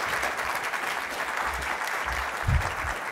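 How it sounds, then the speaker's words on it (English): An audience applauds a book panel in a lobby-equipped venue, a steady wash of many hands clapping throughout, even and moderately loud with no talk over it. "Let's give them a round of applause."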